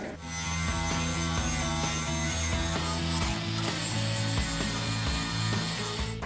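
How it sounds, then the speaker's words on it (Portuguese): A flap disc on an angle grinder smooths welds on a metal gate being prepared for an electric lock, giving a loud, continuous whining grind with steady tonal hum and small rhythmic fluctuations as it works the steel, with no talking. "Agora eu vou passar um disco flap, ou se você tiver um disco de desbaste, pode ser."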